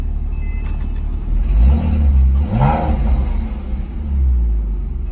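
A Porsche 911 engine, heavily modified, rumbles loudly up close, then revs sharply through a rising, throaty surge before settling back to a deep idle; a voice briefly exclaims.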